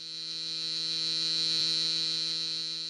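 A steady, even electrical hum comes from an enchanted violin case. It holds a bright, buzzing tone with evenly spaced harmonics, swelling slightly and then fading over a few seconds, with one faint click in the middle.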